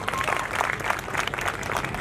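An audience at a comedy show claps steadily for about two seconds, a dense, continuous wash of many hands without pauses.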